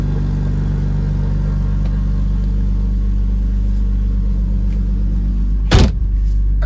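A BMW E46 325Ci convertible, started after eight or nine months of winter storage, idles with a loud, steady low rumble close by, with one brief sharp burst near the end.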